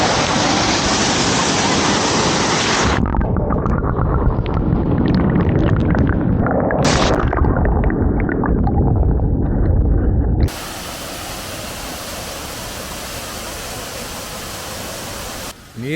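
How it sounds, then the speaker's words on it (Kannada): Savdav waterfall near Malvan, with loud, continuous rushing water filling the scene, a roaring broadband wash that stays steady and close before the sound shifts to a thinner, even hiss. "ಅಲ್ಲಿ ಇರೋದು ಜಲಪಾತ."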